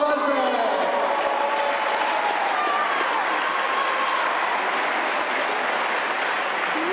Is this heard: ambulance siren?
no